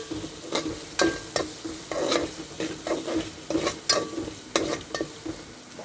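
Chicken tamarind curry being stirred in a pan after turmeric goes in, with a steady sizzle under repeated scraping strokes of a spoon, close and fairly loud, no voices.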